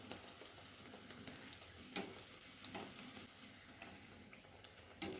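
Hurekki holige, a North Karnataka sweet, frying in hot oil with continuous soft sizzling and sharp spluttering pops scattered throughout, close and fairly quiet.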